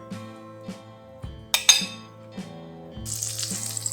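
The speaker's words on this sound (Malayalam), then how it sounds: "ഫ്രൈ ചെയ്ത ചെമ്മീന് മറ്റൊരു പാത്രത്തിലേക്ക് മാറ്റി വെക്കാം." Fried prawns are shifted from the pan into another dish, bringing sharp metallic clinks of a spoon against cookware, a few spaced scrapes and taps, and a hiss of sizzling oil rising near the end.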